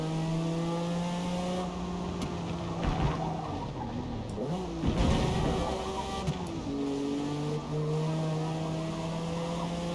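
A Honda NSX race car in Forza Motorsport, fitted with a new exhaust, drones steadily with shifting pitch as it revs up and down, a continuous throaty exhaust note with no talking.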